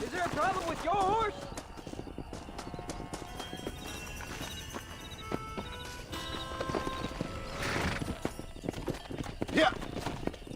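Horse hooves clip-clop steadily in the Western game Red Dead Redemption, a walking rhythm mixed with game music, a whinny and other in-game sounds, with talk over parts of it.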